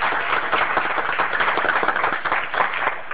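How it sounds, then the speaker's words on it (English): An audience at a telework summit breakout session claps steadily for panelists, a dense continuous patter of many hands that fills the short stretch without pause. "can you help me with a round of applause to thank our panelists?"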